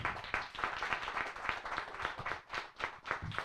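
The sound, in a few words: audience applause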